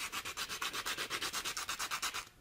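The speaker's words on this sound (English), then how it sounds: "I've got the sandpaper here" Sandpaper scrubs back and forth against wood in quick, even strokes, about sixteen rhythmic passes close by, ending abruptly.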